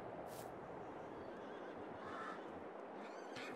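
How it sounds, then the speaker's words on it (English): Wild Mustang horses neigh on a Colorado ranch pasture in Farming Simulator 22, faint and distant whinnies over a low background wash, with no talking. "And it already has horses in it."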